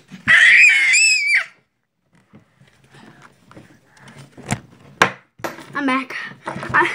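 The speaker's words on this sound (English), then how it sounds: "Screaming." A loud, shrill scream bursts out at the start and lasts about a second, followed by quieter clattering, knocks and a few sharp bangs, with brief voice-like sounds later on.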